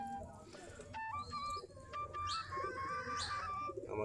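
Domestic Desi Giribaj pigeons feeding on paddy grain in late afternoon give soft, faint coos and chirps, with a low background murmur and a few sharper tonal calls overhead.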